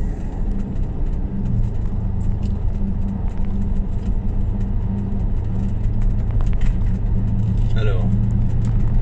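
A Porsche Cayenne SUV, running with a new lambda sensor and a cold engine, hums with a low, steady rumble while driving, under people talking in the cabin.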